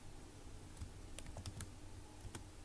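Soft, scattered keystrokes tapped on a computer keyboard, quiet and close against a faint steady room hiss, with no voice present.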